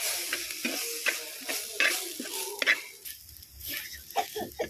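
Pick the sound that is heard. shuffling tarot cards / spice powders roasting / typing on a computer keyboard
spice powders roasting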